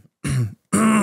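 Two throat clearings directed into a microphone come in quick succession, each a loud, close, rasping burst lasting about a third of a second, separated by a short silence.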